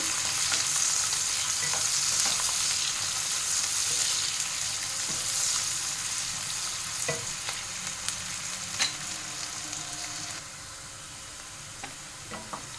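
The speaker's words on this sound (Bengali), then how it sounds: "এবার দিয়ে দেবো 2টো মাঝারি সাইজের কাটা পেঁয়াজ। পেঁয়াজটাকে একটু ভালো করে ভেজে নেব।" Chopped onions sizzle and crackle in a hot pan, with occasional scraping stirs and small pops; steady frying that eases slightly toward the end.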